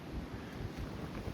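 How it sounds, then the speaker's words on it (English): Steady wind buffeting the microphone at a campsite in western North Carolina, a low rumbling roar with gusty fluctuations, no voices. "it looks like it's gonna stay windy"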